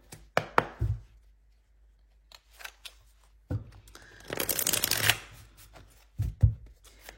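Tarot cards shuffled by hand for a reading: several short riffling bursts, then a longer, louder flurry of shuffling and a final quick shuffle, close up in a quiet room with no talking.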